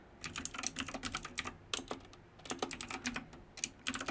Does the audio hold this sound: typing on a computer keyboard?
yes